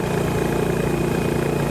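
Honda GB350S motorcycle engine pulling steadily in top gear up a climbing expressway on-ramp at about 80 km/h, a continuous mid-pitched drone with a low throbbing pulse, close and constant throughout.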